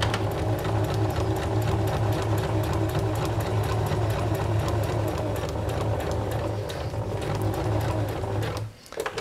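A sewing machine stitches loud and close for several seconds on a fabric drawstring bag, a rapid steady mechanical chatter and hum, then stops abruptly with a brief pause and a few clicks near the end.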